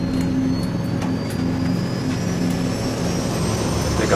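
Twin turboprop engines of a Saab 340 regional airliner at takeoff power, a steady loud droning roar with a tonal propeller hum, heard alone without speech.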